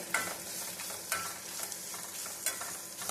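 Byadgi and Guntur dried red chillies frying in oil, a soft continuous sizzle with occasional stirring scrapes, fairly quiet and without talk.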